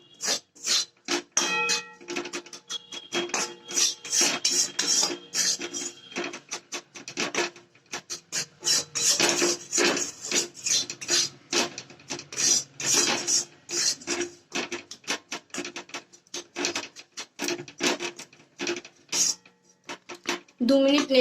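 Flour stirred in a pan for a white sauce with broccoli pasta, a close, repeated scraping and rasping of spoon against pan in quick irregular strokes, with no voices.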